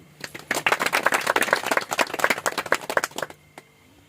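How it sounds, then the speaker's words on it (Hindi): An audience claps at a church gathering in Jharkhand, a burst of sharp, fairly quick hand claps starting after a quiet beat, holding strong for about three seconds and then stopping abruptly into near silence. "ताली बजा दी"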